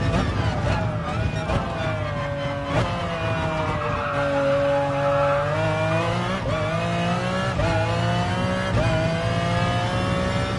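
Group 3 race car in the GT Sport video game, engine roaring loud and continuous with rising and falling pitch through gear changes, tires skidding and squealing throughout.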